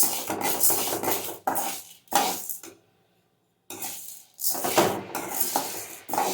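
Mixed lentils dry-roasting in a pan without oil, stirred with scraping and rattling bursts close by, broken by a short pause in the middle, with no talking.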